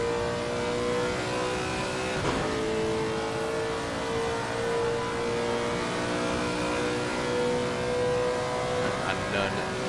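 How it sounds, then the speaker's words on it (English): A Lexus race car's engine revving on the Imola circuit in an esports racing game, a steady mid-pitched drone with held harmonic tones running underneath continuous commentary. "Letting the engine of that Lexus sing its heart out as he is hard on that brakes."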